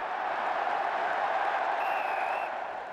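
Crowd cheering and applauding at a rugby sevens match in London in 2009, a steady, broad roar of many voices that is loud and sustained throughout, with a faint high whistle-like tone entering partway through.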